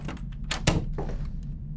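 Video game door opening animation: a short creak and a solid thunk, fairly quiet and alone, with a few softer clicks around it.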